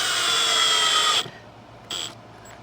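A power drill drives a screw into an old wooden door jamb in a steady high whine lasting about a second, followed after a pause by a second short burst.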